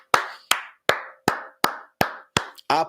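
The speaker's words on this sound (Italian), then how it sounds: "Applausi." A single person claps during an Italian football transfer-market live stream, eight sharp close claps in a steady rhythm, loud and alone.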